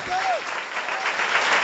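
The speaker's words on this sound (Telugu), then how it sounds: "చప్పట్లు కొట్టండి గట్టిగా అందరు." Loud, continuous clapping from a church congregation at a Horeb Ministries service, a dense wash of hands that builds slightly over a couple of seconds, with a brief tonal sound near the start.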